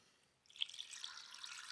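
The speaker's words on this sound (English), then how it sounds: "I'm just gonna cover them in water." Water poured over boilies sitting in a plastic container, a faint splashing pour that starts abruptly after a short quiet moment and then continues as a steady light trickle with small drips.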